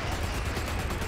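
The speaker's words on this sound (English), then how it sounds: "Oh, this is going to be a big airstrike." Airstrike explosions in a competitive video game match, a dense, loud, continuous rumble of blasts and gunfire-like bursts with no clear gaps over a short stretch.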